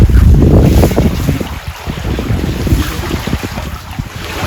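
A sailboat motoring across the Indian Ocean on a light-wind day: strong wind buffeting the microphone over rushing water and hull wash, loud and continuous, with a low rumble underneath and no talking.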